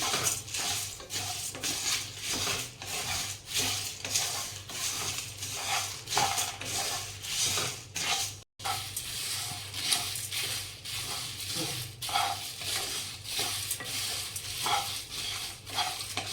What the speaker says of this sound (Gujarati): જો આપણા મસાલા થોડા થોડા શેકાવા માંડ્યા.